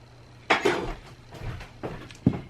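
Strawberries being mixed in a bowl, with a few clinking, scraping knocks of a utensil against the dish spaced irregularly over quiet background.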